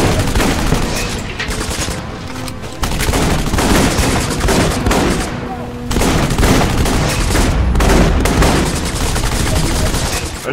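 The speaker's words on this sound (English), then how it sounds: "the 8 armored are always equipped with an alternate weapon. Captain, switch out and fire." Rapid bursts of alternate-weapon gunfire from an armored soldier in the shooter game Section 8: Prejudice, loud and close, with dense rattling volleys in three long stretches separated by brief pauses.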